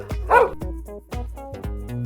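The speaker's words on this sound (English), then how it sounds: "Dog." A dog barks in a few short, sharp bursts, loud and close, with a yelping, slightly whimpering edge between barks and no other sounds around it.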